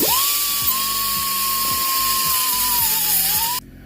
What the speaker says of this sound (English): he is gonna whiz wheel it smooth for us